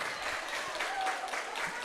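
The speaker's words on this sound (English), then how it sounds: "You can hear the clapping from the Panthers." Steady clapping from the Panthers team on deck at a high school junior varsity swim meet at Stevens Point, a continuous moderate patter heard from some distance, with no talk.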